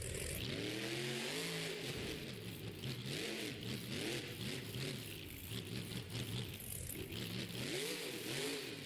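Kylie Kent's Sinistar monster truck revving at a Monster Jam racing event, a loud continuous engine roar rising and falling in repeated throttle surges, heard from a distance across an arena.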